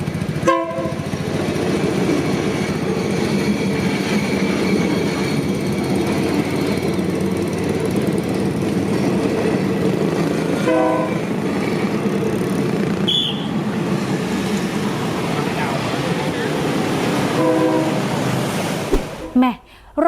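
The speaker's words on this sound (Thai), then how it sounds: "โอ้โห รถไฟมาแล้วนะครับแม่" A train rolls past a road crossing where staff have closed off the street, a loud sustained rumble and rattle of wagons with a horn blast, continuous for the whole stretch and fading abruptly at the end.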